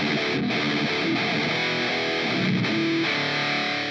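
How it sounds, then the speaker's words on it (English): Heavily distorted modern djent guitar played through a Line6 Helix Oblivion amp model with an impulse response, chugging riffs running continuously and loud with short palm-muted gaps, alone without voices. "This is what it sounds like just with the Oblivion amp and the IR."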